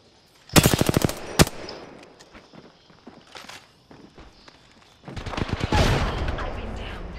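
Gunfire in the battle royale shooter Apex Legends: a quick automatic burst of close, sharp shots, a lone follow-up shot, softer distant pops, then another dense rattling burst near the end, with faint speech between.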